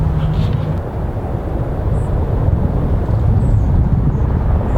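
A helicopter near a helipad beside a golf course makes a loud, steady low rumble that fills the whole stretch, continuous and close, with no talk.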